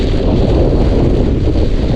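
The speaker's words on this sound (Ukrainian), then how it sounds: "На горі попали у таку бурю, дує штормовий вітер" Strong storm wind roars across a mountaintop, buffeting the microphone with a loud, steady, unbroken rush that fills the whole clip with no voices.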